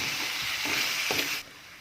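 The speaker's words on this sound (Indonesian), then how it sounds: "Aduk merata dan masak jamur kupingnya sampai matang" Wood ear mushrooms sizzle in a pan as a spatula stirs them, giving a couple of soft scraping strokes over a steady frying hiss that drops away abruptly near the end.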